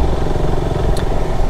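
A KTM RC 200 motorcycle riding, its engine a loud, close, steady drone throughout the short stretch.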